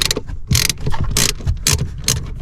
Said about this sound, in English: I'm now going to loosen and remove this 10mm nut here on the positive battery terminal.